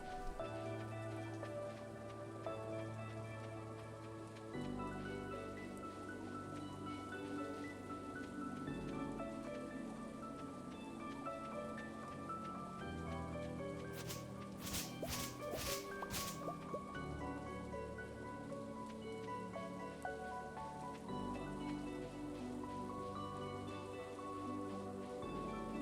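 Rain falling in Stardew Valley, a soft patter and drips under steady game music, with a short burst of sharp clicks midway.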